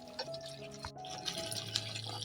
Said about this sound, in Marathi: राहिलेलं गरम पाणी पण टाकायचं आहे याच्यामध्ये